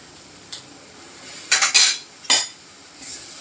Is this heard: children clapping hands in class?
no